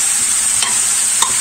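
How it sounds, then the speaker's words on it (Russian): Food fries in a pan with a steady close sizzle, while a utensil stirs it with a couple of brief scraping clicks; part of a Russian lazy cabbage roll recipe. "Так, это все обжаривается."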